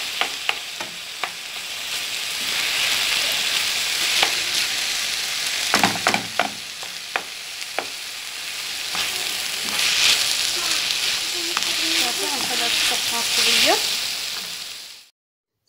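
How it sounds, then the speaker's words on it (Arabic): Chicken, onion and colored peppers fry in a pan, a loud continuous sizzle with occasional stirring scrapes and clinks, close up. "من بعد ما تشحرت ليا هكداك الدجاج والبصله والفلافل"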